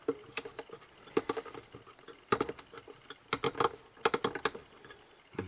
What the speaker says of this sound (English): Hear those old time tuners at work.